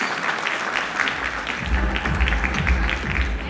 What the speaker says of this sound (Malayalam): എല്ലാവരും ഒരു കയ്യടി കൊടുക്കും